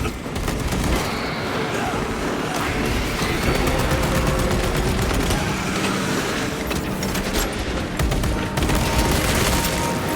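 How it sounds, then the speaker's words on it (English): Frag grenade blasts and dense gunfire fill a Space Marine 2 battle, a loud, continuous barrage of shots and booms. "Frag grenade deployed."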